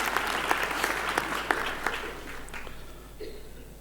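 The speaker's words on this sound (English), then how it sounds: "Maybe just another hand of applause to our" Applause from a graduation ceremony audience at the University of Johannesburg, honouring a group of young male singers; dense, sustained clapping that swells, then thins and fades toward the end.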